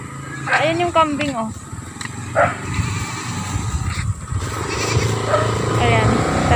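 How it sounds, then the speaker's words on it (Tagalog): Goat bleating on a neighbor's farm, a couple of close wavering calls in the first half with a fainter bleat later, over outdoor background noise and people talking. "Ayan yung kambing"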